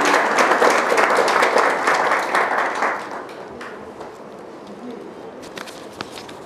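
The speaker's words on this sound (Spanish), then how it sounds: "Un aplauso para ella." A church congregation claps in welcome for about three seconds, a dense burst of applause that fades out, followed by quieter room sounds with scattered small noises.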